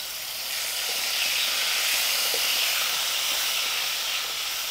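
Mustard seeds and cumin sizzle in a pan of hot oil for tempering, making a steady, close, bright hiss that swells slightly and holds evenly throughout, with no talking.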